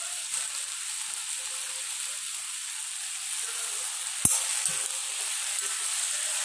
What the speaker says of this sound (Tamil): இப்போ நம்ம அரிஞ்சு வச்சுருக்க கத்திரிக்காவை போட்டுப்போம்.